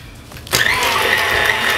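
A mixer starts up abruptly for a chocolate birthday cake batter, then whirs steadily and loudly at close range.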